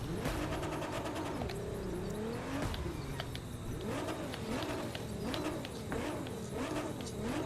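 Formula 1 car engine in the racing game The Crew 2, a thin, whiny high-pitched drone that rises and falls in repeated revving sweeps and rings on continuously at a moderate level.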